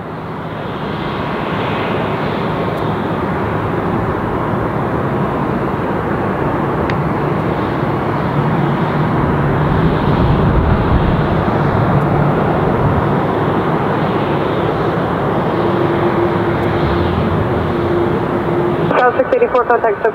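Airliners at Los Angeles International Airport (LAX), with a steady, loud broadband engine roar sustained throughout, like a jet rolling or climbing nearby, and a brief burst of other noise at the very end.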